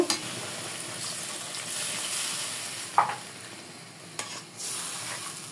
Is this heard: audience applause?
no